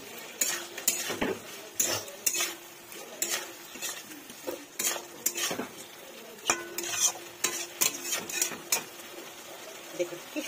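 Fried cauliflower and potatoes being stir-fried in a pan, with a spoon or spatula scraping and knocking in quick, uneven strokes over a low sizzle, all close up.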